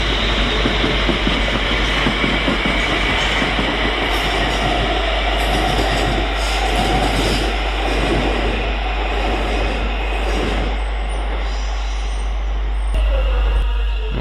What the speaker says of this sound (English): leaving us now is the London North Western Railway service to Crewe from London Euston